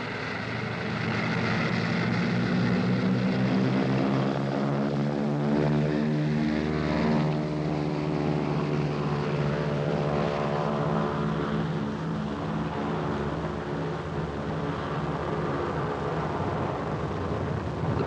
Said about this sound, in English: Plane gets him to hospital in an hour.